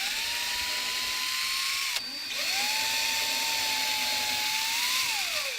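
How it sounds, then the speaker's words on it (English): A drill pre-drilling holes in a wooden door frame whirs steadily, stops for a moment, then spins up again, its tone wavering slightly as it bores into the wood, close and continuous. "you want to go ahead and pre-drill your holes"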